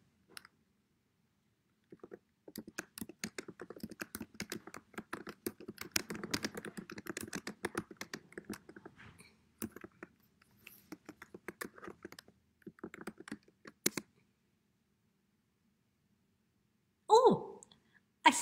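Clicky computer keyboard typing in a quiet room, a steady run of quick light keystrokes lasting several seconds with short pauses, then a final few taps after a gap.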